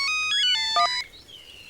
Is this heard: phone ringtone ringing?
yes